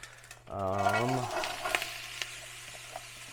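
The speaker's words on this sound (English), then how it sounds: "let's let this cook a little bit" Food sizzling gently in a pan, faint and steady, with a short burst of humming or tone near the start and a few light clicks and taps.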